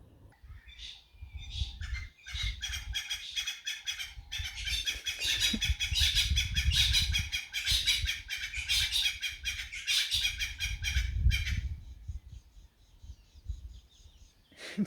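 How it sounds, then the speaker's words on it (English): Several birds call loudly and repeatedly on the Mphongolo loop near Shingwedzi, a busy mix of squawks and chirps that keeps going almost without pause, with low rumbling underneath. "There's noisy birds."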